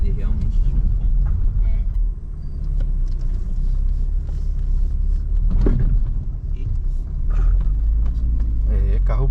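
A lowered car drives a rough country road toward a rural property near Ibiúna, its engine rumbling close and continuous with bumps and knocks from the surface, while people talk over it.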